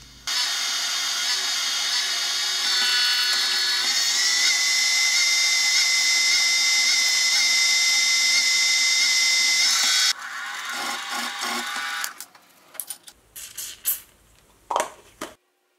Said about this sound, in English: I'll drill and tap a hole for M8.